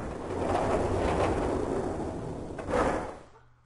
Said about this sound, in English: Santa nodded back and threw the door open.